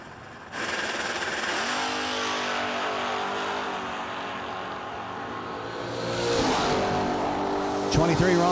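Two drag race cars at the No Delay Nationals launch down the strip, engines roaring up in rising, revving pulls that swell loudly, with tire squeal and a second surge of engine noise near the end, under an announcer's commentary.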